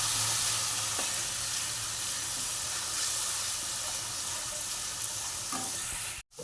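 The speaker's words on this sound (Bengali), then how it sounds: "একটু জল দিয়ে দিচ্ছি যাতে মশলাটা পুড়ে না যায় দিয়ে ভালো করে এইভাবে নাড়িয়ে চাড়িয়ে নিচ্ছি" Spiced masala for a pumpkin, potato and prawn curry sizzles hard in a pan after a splash of water, a dense continuous hiss with faint stirring scrapes, close and steady until it cuts off abruptly at the end; no one speaks.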